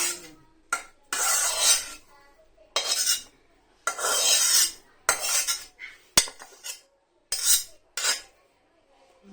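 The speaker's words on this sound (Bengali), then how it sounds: "শিলপাটায় কিভাবে বাটি। রসুন পেঁয়াজ সব পাটায় ঢেলে" Garlic and onion ground by hand on a stone slab (shil-pata) make repeated loud, coarse scraping strokes in bursts of about a second, separated by short pauses, with no talk.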